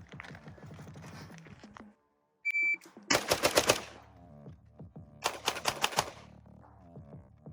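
A carbine, then a pistol, fire in a transition drill with a budget AR: a rapid burst of loud, close gunshots, a short pause, then a second quick volley of shots, with handling clicks before the first burst.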